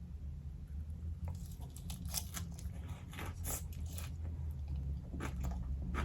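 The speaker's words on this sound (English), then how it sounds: "we're gonna have a big and scrumptious first bite" Crisp crunching bites and chewing of a fresh salad with avocado, close to the mouth, in irregular bursts over a steady low background hum.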